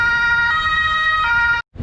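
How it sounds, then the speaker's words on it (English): Ambulance siren passing along a street in Graz, Austria, a loud steady wailing tone that rises and falls, then cuts off abruptly near the end. "Like I was saying before I was so rudely interrupted by that ambulance"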